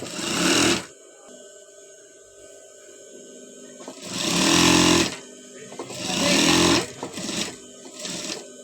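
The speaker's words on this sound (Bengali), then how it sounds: "আমি এটা সম্পূর্ণ এভাবে সেলাই করে দিচ্ছি" A sewing machine stitches a petticoat in loud, rapid bursts of mechanical whirring, three or four runs separated by quiet pauses.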